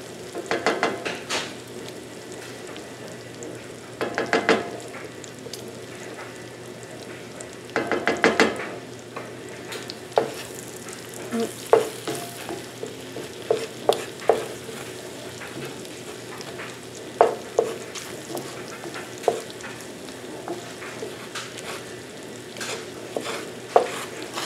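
Butter and flour are stirred together in a pan for Southern-style sausage gravy, with repeated scraping and clattering of a utensil against the pan over a soft sizzle and no talk.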